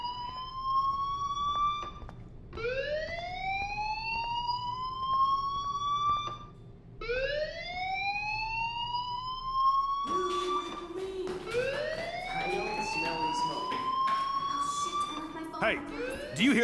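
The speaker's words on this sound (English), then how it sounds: "Hey, do you hear that fire alarm?" Fire alarm in the video game Life Is Strange, a loud rising electronic siren that sweeps upward in repeated whoops every few seconds, with a denser, busier stretch of clanging tones toward the end.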